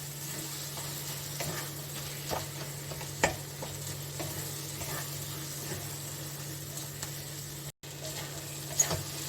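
Tomatoes and spices sizzle softly while being stir-fried in a pan for a jackfruit curry, a steady low hiss with occasional scraping clicks of a spatula, quiet and close.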